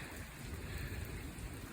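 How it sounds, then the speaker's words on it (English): Heavy rain pours steadily during a thunderstorm, a dense close wash of noise with no voices over it. "See some big rain"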